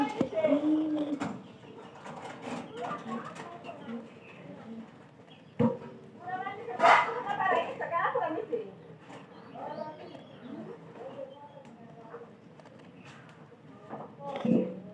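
Soft pigeon coos repeat at intervals, mixed with rustling and nearby talking.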